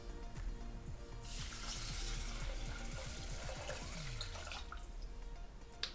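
Water is poured into a shrimp risotto cooking in a Thermomix, a steady rushing splash that begins abruptly and continues over the machine's bubbling and sizzling, close and fairly loud.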